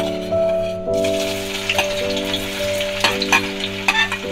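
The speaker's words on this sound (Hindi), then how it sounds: "2 प्याज डाल रही हूँ, मैं बारीक काट लिया है प्याज को।" Finely chopped onions dropped into hot oil with whole spices, bursting into a loud, close sizzle after a moment of background music, with scraping stirs popping through the crackle.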